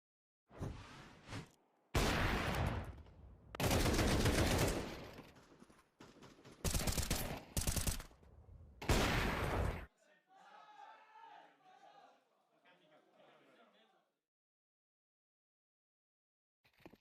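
Pistol gunfire in the video game Counter-Strike 2, loud bursts of shots in clustered volleys over several seconds, followed by fainter muffled crowd noise and then near silence.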